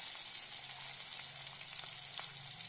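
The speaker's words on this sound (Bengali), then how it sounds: "এবার আমি বেশ কিছুটা পেঁয়াজ কুচানো এই তেলের মধ্যে" Steady, close sizzling of chopped onion frying in hot oil, a continuous crackling hiss with occasional louder pops.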